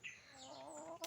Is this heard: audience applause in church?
no